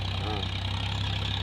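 Massey Ferguson 7250 tractor engine running steadily with a rotary attachment on a farm, a continuous low droning hum throughout at close range.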